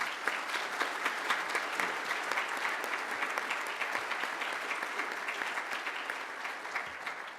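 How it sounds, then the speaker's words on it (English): A university breakfast audience applauds the guest speaker at the Fall 2013 Eggs and Issues event, with continuous, even clapping from a mid-sized crowd, fairly quiet and steady from start to finish. "if we give one more round of applause for our speaker"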